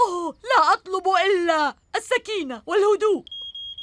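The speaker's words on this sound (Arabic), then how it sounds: "هذا صوت إنذار حريق" In an animated firefighter cartoon, a fire alarm sounds one short, steady electronic tone on its own, right after a character finishes speaking.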